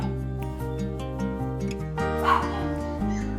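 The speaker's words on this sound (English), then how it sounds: "It's time for the doggies to go out." Puppies yip, bark and whimper close by in a lively, overlapping run of high cries, with a brief louder burst partway through.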